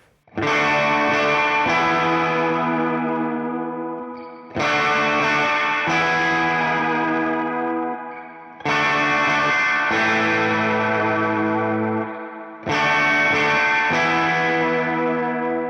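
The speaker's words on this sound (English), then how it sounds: "let's go ahead and throw, let's see, a little surf guitar sound on here" Electric guitar, a Telecaster with a VegaTrem VT2ND bridge, with a wet, reverb-drenched surf tone and wobbling tremolo, played as four ringing chord phrases separated by short gaps.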